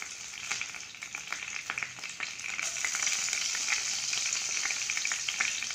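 Fenugreek seeds and curry leaves crackle and sizzle in hot sesame oil, with a steady loud frying hiss and scattered pops throughout.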